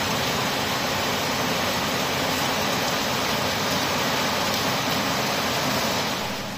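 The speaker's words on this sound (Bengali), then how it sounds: "আর এই যে সারা রাত এরকম বৃষ্টি, জোরে জোরে বৃষ্টি" Heavy rain pours steadily through the night in Saudi Arabia, a dense, even wash of noise that never lets up, loud and continuous with no talk.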